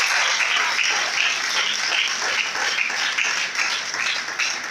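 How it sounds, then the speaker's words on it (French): A large audience applauds the mayor of Montreal at a Black History Month gathering, a dense, steady wash of many hands clapping loudly and close for the whole stretch. "Je vous demande d'applaudir très fort Monsieur le maire de Montréal."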